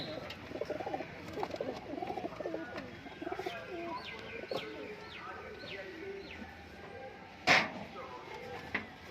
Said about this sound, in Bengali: এটাও নিচে বাজি পায়রা